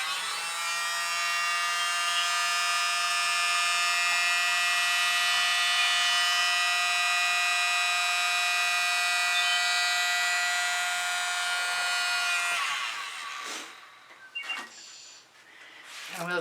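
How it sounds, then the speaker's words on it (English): Small electric blower runs with a steady, high-pitched tonal whine for about twelve seconds, then cuts out, followed by brief faint clicks and handling noises. "I've got a little blower"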